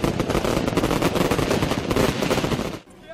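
Strings of firecrackers set off for Chinese New Year crackle in a dense, loud, continuous barrage of rapid bangs that stops abruptly near the end.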